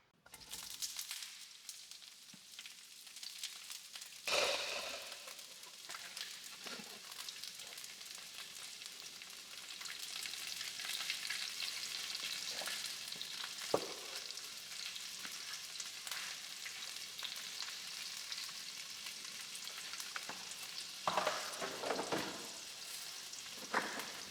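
Green beans sizzle and fry in a pan with garlic powder, a steady crackling hiss that rises in intensity, broken by occasional stirring clatters and scrapes.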